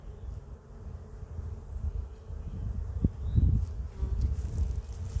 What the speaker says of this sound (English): Fair amount of bees on here.